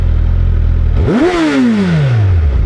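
A Suzuki Hayabusa 25th Anniversary motorcycle with no exhaust fitted idles with a loud, rough rumble, then gets a sharp throttle blip that revs up fast and falls away, very close and loud.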